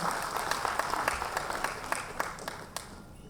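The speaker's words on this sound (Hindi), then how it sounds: "कृपया ताली बजाकर विजेताओं का उत्साहवर्धन अवश्य करें।" An audience at a Women's Day award ceremony applauds the winners with sustained clapping and sharp individual claps standing out, fading slightly toward the end.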